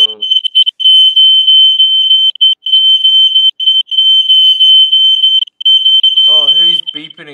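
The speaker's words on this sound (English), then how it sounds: "I'm just setting off your fire alarm, folks." Smoke alarm set off by vape smoke, sounding a loud, steady high-pitched tone in near-continuous pulses with brief gaps, and a voice joining near the end.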